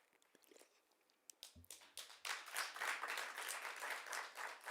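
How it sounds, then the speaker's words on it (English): Audience applause at a Miss Namibia legacy handover ceremony, starting with a few scattered claps and swelling into steady, fairly faint clapping from a crowd. "Thank you for clapping"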